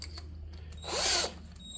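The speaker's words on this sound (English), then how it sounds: "this is just a small hone device that I use on cylinders for chainsaws and weed eaters" Small cylinder hone of the kind used on chainsaw and weed eater cylinders, spinning inside the anvil sleeve of a Rhino Multi Pro XA, giving a short whirring, scraping burst of about a third of a second over a low mechanical hum.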